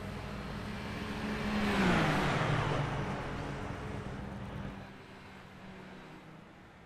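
Super Formula Lights race cars in a racing video game cross the finish line at Indianapolis Speedway, with an engine whine rising, peaking and then fading as the cars pass and thin out.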